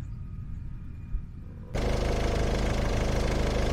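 A car engine idles with a low rumble, then the high-speed cooling fan kicks in abruptly, adding a loud steady whirring roar over the engine.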